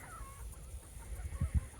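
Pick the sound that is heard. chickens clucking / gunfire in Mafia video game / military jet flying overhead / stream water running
chickens clucking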